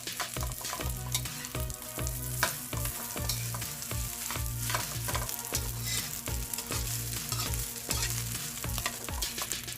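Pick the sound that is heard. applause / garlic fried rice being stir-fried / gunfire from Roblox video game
garlic fried rice being stir-fried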